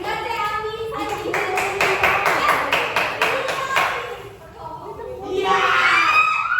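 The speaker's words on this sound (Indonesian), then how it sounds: "Tepuk tangan buat Bapak." A class of eighth-grade students claps together for their teacher, a loud burst of rapid applause lasting a few seconds, then voices and shouting rise from the classroom afterward.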